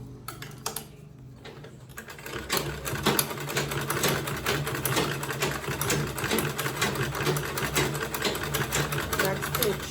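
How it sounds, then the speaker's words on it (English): A sewing machine stitching an Ankara-print and leather bowler bag closed runs in a rapid, steady mechanical chatter, close and continuous after a brief quieter start, with a voice talking over it. "I'm going to sew this close now."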